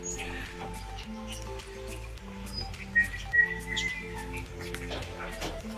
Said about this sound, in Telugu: Total how many birds are there bro?